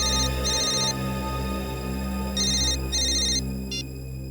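A mobile phone ringtone for an incoming call plays loud and close, repeating bursts of electronic melody with brief gaps, no voices over it.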